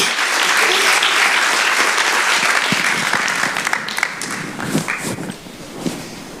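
Loud applause from an audience at an eMTIC celebration poster award, dense clapping that thins out over several seconds into scattered claps, footsteps and a few soft thuds, with some voices near the end.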